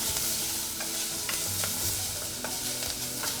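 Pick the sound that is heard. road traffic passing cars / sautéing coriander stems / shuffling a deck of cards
sautéing coriander stems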